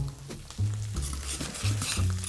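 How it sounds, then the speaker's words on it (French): Arugula and shallots are stirred in a hot pan, with a soft continuous sizzle and repeated scraping thumps from the stirring, close and clear. "On va mélanger l'ensemble, juste faire tomber un petit peu notre roquette, la mélanger avec les échalotes qui sont encore un peu croquantes"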